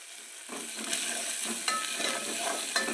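Chopped onion with fresh coriander frying and browning in a pan for dal, giving a steady close sizzle with scraping stir sounds and occasional clinks, and no talking.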